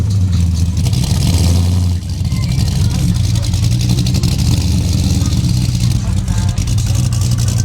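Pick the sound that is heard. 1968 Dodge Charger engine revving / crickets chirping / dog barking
1968 Dodge Charger engine revving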